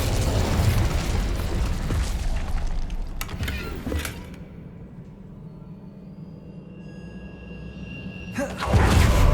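An Incendio fire spell in Hogwarts Legacy goes off as a loud roaring blast with crackling bursts, then fades to a low rumble before another heavy blast flares at the end.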